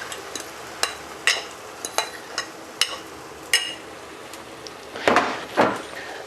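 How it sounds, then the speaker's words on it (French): Pescajoune batter cooks in a hot non-stick pan while a wooden spatula works it, giving a soft background sizzle punctuated by sharp taps and scrapes, ending with two louder rustling scrapes. "Donc pendant que ça cuit, avec une spatule en bois, vous allez triturer un petit peu la pâte comme ça."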